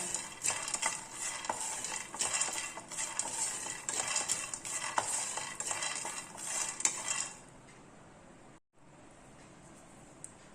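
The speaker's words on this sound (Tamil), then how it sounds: "லைட்டாக வந்து வறுத்துக்கிறேன்" Peanuts dry-roasting lightly in a pan rattle and clink under a stirring utensil for about seven seconds, up close, then the sound drops to a faint hum with a brief silent gap.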